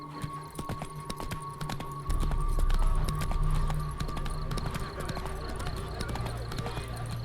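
Horse hooves clip-clop in the video game Witcher 3, a steady, busy patter of hoofbeats under a low rumbling background, close and moderately loud, with no talk.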